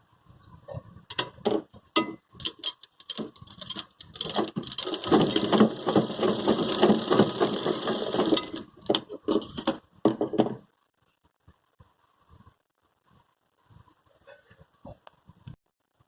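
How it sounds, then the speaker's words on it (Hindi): A sewing machine stitches a small cotton dress with elastic gathers, running in short stop-start bursts and then one longer steady run before falling quiet apart from a few faint taps. "अभी पहले एक ही साइड से सिलाई करती हूँ इधर"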